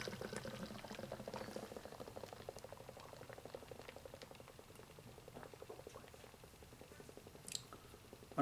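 Nitrogen stout from a Camden can with a widget pours fast into a glass, a steady fizzing, bubbling gush with liquid patter throughout and no talk.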